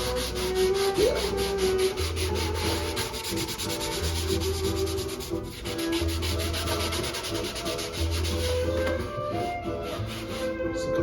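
Steady rubbing and wiping across the grimy surface of a Meyer Sound Milo speaker with a Clorox wipe, a continuous close scrubbing texture with rhythmic strokes and a low mechanical hum underneath.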